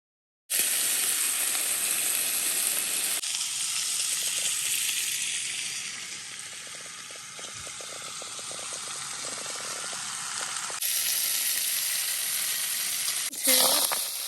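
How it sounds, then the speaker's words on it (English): Bacon frying in a skillet during a breakfast cooked in a van, a steady broadband sizzle and crackle filling the clip, dipping slightly in the middle before a brief clatter near the end. "Start off by cooking an entire pack of bacon."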